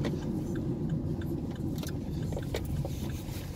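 A few cars circulating around a town square, a continuous low road rumble with scattered light clicks and rattles nearby.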